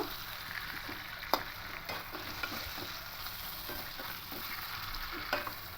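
A spatula scrapes and stirs chicken and potato curry in a hot pan, soft repeated knocks over a constant low sizzle, close and unaccompanied by speech.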